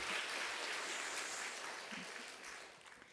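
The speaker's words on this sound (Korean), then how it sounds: "여신도를 위해서 격려의 큰 박수 한번" Church congregation applauding during a Sunday worship service, a steady wash of clapping heard from a distance that fades slightly toward the end.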